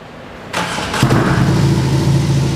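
A BMW R18 First Edition motorcycle with an aftermarket exhaust starts up after a brief crank, catching into a loud, deep, steady idle rumble close to the listener.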